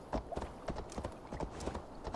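Horse hooves clip-clopping in Assassin's Creed Valhalla, an even, close trotting rhythm of crisp repeated hoofbeats.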